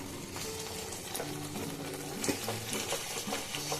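Hilsa fish curry thickened with poppy seed paste and salt is stirred in a pan, a steady low clatter of spoon against metal under a faint sizzle, with a few sharper scrapes and knocks near the end.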